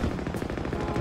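Rapid gunfire in the video game Halo during a Big Team Battle match, a dense continuous stream of close automatic shots with no pause.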